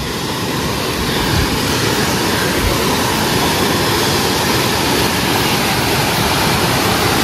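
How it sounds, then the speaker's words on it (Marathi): Steady, loud roar of a waterfall pouring into a forest stream at Chirma Devi near Thane, a dense continuous rush of falling water heard up close with no voices. "इकडे खाली हा वॉटरफॉल आहे आणि हे पाणी इकडून येत आहे"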